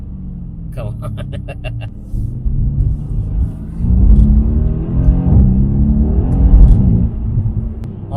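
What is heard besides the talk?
Mercedes-AMG C63 S V8 engine downshifts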